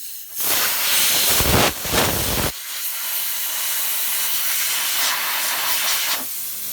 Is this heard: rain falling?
no